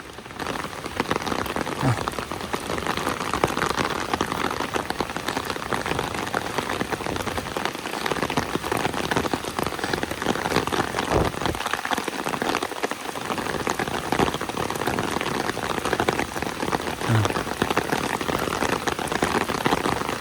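Steady, dense rain pours down on a stretch of road near a landslide site in Sariak Bayang, a continuous loud hiss with no pauses and no voices.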